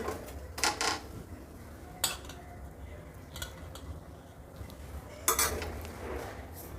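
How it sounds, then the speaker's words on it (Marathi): Dishes and cutlery clink softly in a few quiet, separate bursts as radish bhaji is served onto a thali plate, with low room hiss between the clinks. "आपलं ताट वाढायला घेतलेलं आहे मी मुळ्याची भाजी"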